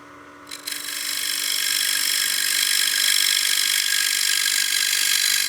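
A wood-turning scraper cuts a wooden coin box spinning on a lathe, starting with a brief clack and then holding a loud, continuous, even hiss of cutting over the motor's steady hum.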